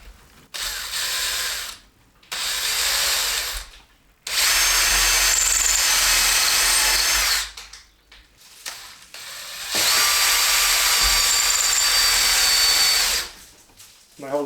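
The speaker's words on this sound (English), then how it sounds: "Should I just drill it and see what they do?" Power drill boring screw holes into a kitchen cabinet drawer in a salvaged mobile home, several loud whirring bursts of a few seconds each separated by short pauses, close up.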